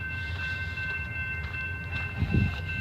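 A long freight train with locomotives rolls slowly past a rail yard, giving a steady low rumble of cars with a heavier surge near the end.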